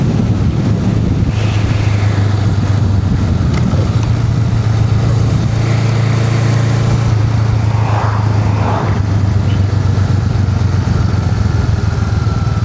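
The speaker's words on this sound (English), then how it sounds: "Let's start downshifting." A motorcycle ridden by a new rider on a first ride hums with a steady, droning engine note, heavily buffeted by loud wind noise across the microphone as it slows toward a turn.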